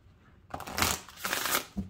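Oracle cards being shuffled by hand, a quick close riffle of rapid papery flicks in two short bursts, heard alone.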